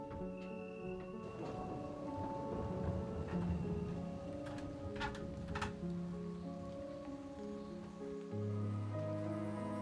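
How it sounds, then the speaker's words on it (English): Steady rain on a cold morning makes a soft, continuous patter with faint rustling underneath. It runs throughout with no talking. "cold and rainy morning."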